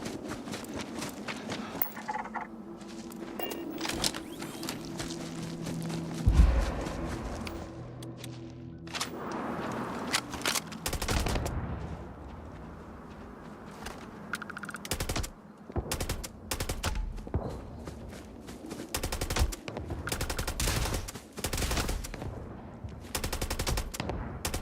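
Rapid bursts of gunfire ring out from a gun with explosive rounds in the space game Starfield, loud and repeated in uneven volleys with short pauses, a low rumble of impacts under the shots.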